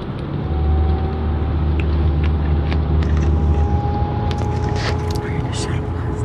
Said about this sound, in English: We're in a shuttle bus.